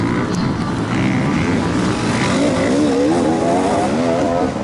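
Enduro motorcycles in a Turkish Enduro Championship race approach on a dusty course, their engines a steady, loud droning whine with rising pitch sweeps as they rev and close in, with no talk over them.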